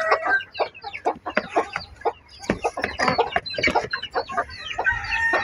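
A hen and her chicks cluck and cheep close by, a busy stream of short overlapping calls with quick chirps scattered throughout and no talking.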